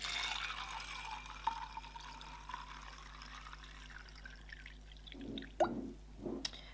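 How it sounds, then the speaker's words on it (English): Water topping up jars of pinto beans for canning, a thin trickle at first, then a few close, distinct pours and drips near the end, fairly quiet. "the next thing you need to do is simply to top the water up"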